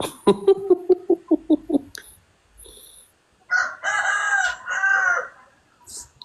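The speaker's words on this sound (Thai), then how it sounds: "เสียงไก่กลางคืนเสียงจิ้งหรีด" A quick run of loud, rhythmic clucks, then after a short pause a rooster crows one long, strained call nearby at night.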